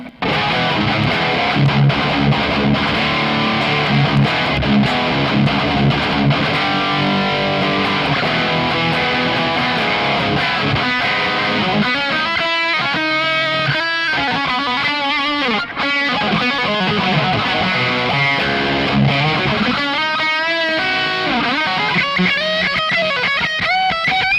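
An electric guitar plays through a Peavey 6505 MH amp with an Alter Ego Vintage 4 delay in the effects loop and onboard reverb, giving a distorted, sustained sound with chords and riffs trailing into echoes, continuous and alone without talk.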